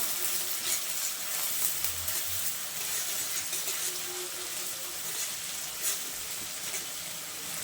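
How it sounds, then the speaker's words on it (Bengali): Steady soft sizzle of onions frying with salt in a pan, a continuous hissy crackle with faint scraping now and then. "পেঁয়াজটা ভাজার সময় আমি 1/2 চামচের মতো নুন দিয়ে নেড়ে চেড়ে পেঁয়াজটা আমি ভাজা ভাজা করে নেব"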